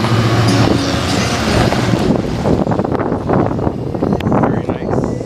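A Ford Mustang convertible rolls past at an outdoor car and plane show, its engine rumble blended with heavy wind buffeting on the microphone, loud at first and then easing off.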